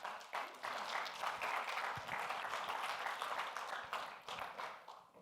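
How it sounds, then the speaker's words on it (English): An audience applauds a speaker taking the stage at a conference, a soft, fairly distant wash of many hands clapping that rises quickly and holds steady for several seconds before thinning out. "You can give him a round of applause, please."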